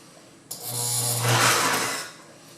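A sewing machine stitches a visible seam in custom upholstery for a Chevrolet Suburban. It runs as a steady, close mechanical whir for about a second and a half, then stops.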